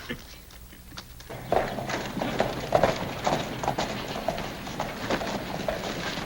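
A horse's hooves clip-clop at a brisk steady pace on a Western trail, starting after a quiet moment and continuing close and clear.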